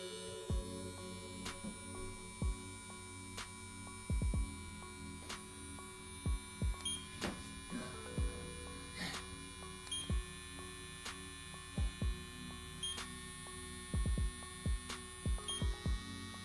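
A VGR V970 hair trimmer motor runs with its blade removed, a steady high-pitched electric whine and hum held throughout, with several short sharp clicks and knocks scattered across it.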